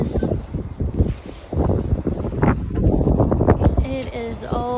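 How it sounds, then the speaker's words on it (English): Strong, gusty wind in Oklahoma buffets the microphone in loud rumbling bursts, with a voice talking over it and a brief tonal whine near the end. "I'm showing you how brutal is the wind right now."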